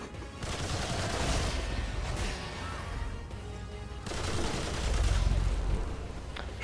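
Rapid, sustained gunfire in Remnant 2 during a boss rush, dense crackling bursts with heavy low thumps, pausing briefly and then surging again in continuous combat noise.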